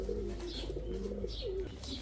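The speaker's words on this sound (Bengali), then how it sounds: "এখন এক জোড়া পাখি কবুতর দেখাবো।" A pair of domestic pigeons, of the kind sold by pigeon dealers, coo softly and repeatedly in low, rolling calls against a faint background hum.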